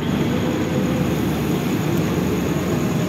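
Senja Utama passenger train arriving at Purwokerto station at night, a steady broad rumble and roar of the rolling train, loud and continuous with no talk.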